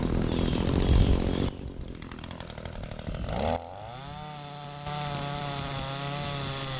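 Cub Cadet 22-inch 159 cc gas walk-behind string trimmer running while cutting very overgrown lawn, a loud close engine drone that drops and shifts pitch as the load changes, alone without talk.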